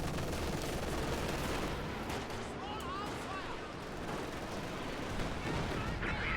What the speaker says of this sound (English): Katyusha firing on that Vet 3 MG, decrewing the pack